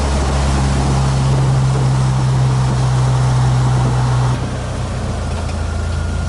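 Jeep Wrangler TJ cruising in fifth gear after a rebuild, a loud steady drone of engine and road noise with a sustained low hum that drops away near the end.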